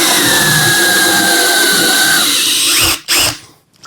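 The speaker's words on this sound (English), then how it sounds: "This is a 3/8 inch plug cutter." A 3/8 inch plug cutter bores into wood in a steady, loud drilling whine lasting nearly three seconds, then stops abruptly with a brief spin-down and a short burst of noise at the end.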